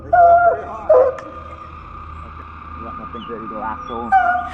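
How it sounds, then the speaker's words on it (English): Several dogs bark frantically in woods at a mountain lion, sharp yips and whining barks in bursts over a steady hum, fairly close, with a person talking among them. "the video opens with loud, frantic barking as several dogs notice something unusual in the woods"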